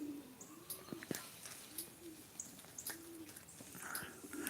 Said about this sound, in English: Yeah, that was a pigeon. There's tons of them here.